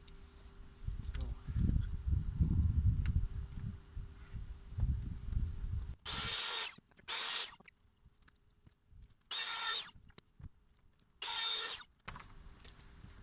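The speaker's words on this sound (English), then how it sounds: "I got my round over bit and my body clamped to the table" A router fitted with a round-over bit shapes the edge of a fabric-top guitar body clamped to a table. After low rumbling and handling noise, it gives several short, loud, bright bursts with quiet gaps between them.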